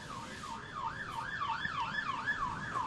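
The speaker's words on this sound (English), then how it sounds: "And you might hear the sirens going by." An emergency vehicle siren wails in a fast, regular up-and-down cycle as it passes along a road near Sunset Beach during a surf contest, fairly loud over steady outdoor background noise.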